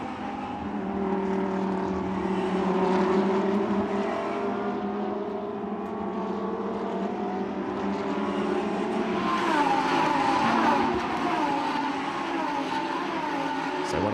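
Lamborghini Huracan race cars circle the track behind a safety car, a sustained engine drone that swells and shifts in pitch as the cars pass at moderate distance, with no voices.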